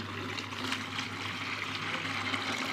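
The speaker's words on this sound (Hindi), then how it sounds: "तो अब पहले हम इसमें थोड़ा सा पानी डाल लेते हैं।" Water pours steadily into a 12-volt glow plug water heater, a continuous close splashing and trickling that runs without a break and without any talk over it.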